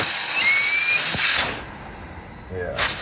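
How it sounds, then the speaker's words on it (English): Air hissing steadily from a leaking J-pipe gasket on a turbocharged Mitsubishi Lancer Evolution 9, a loud, close, broad hiss that fades and swells, with brief clunks and a voice talking over it. "Saw the J pipe. So the gasket right there. You can see that it's pushing air."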